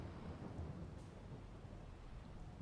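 Steady rain with a low thunder rumble in the Farming Simulator 22 video game, a continuous soft wash of sound with no voices.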